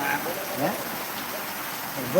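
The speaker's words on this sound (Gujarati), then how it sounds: "વરસાદ પડે છે જો આ ખેતરમાં વરસાદ પડે છે ભરાઈ ગયું છે" Steady rain pours onto a flooded farm field where standing water covers the spoiled crop, making a dense, even hiss throughout, with faint voices now and then.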